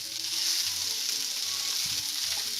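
Onions sizzle steadily in a preheated frying pan, a close, continuous hiss with faint crackles and no talking.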